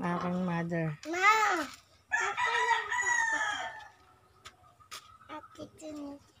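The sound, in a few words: chickens in the backyard of a provincial home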